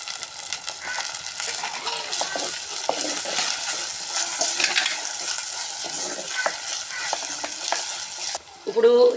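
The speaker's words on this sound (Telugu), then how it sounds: "అల్లం వెల్లిపాయ పేస్ట్ వేస్తున్నానండి." Mutton fries with ginger garlic paste in a pan, giving a steady close sizzle under constant scraping and stirring, with a few clinks of the utensil against the pan near the end.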